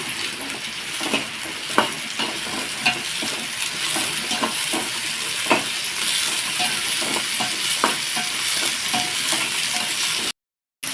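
Garlic and ginger sauté in a pan for a goat head curry, crackling with a continuous sizzle while a utensil scrapes and taps at intervals, ending in a brief drop-out; no speech.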